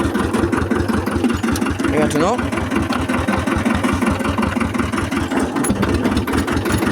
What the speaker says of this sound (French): je sais pas si vous m'entendez avec le bruit du tracteur